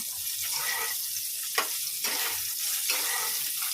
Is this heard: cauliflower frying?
yes